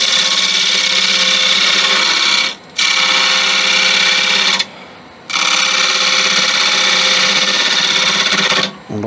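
A woodturning lathe undercutting a spalted beech vase, the tool biting with a loud continuous rasping whine in three long bursts separated by brief pauses, close and without talk.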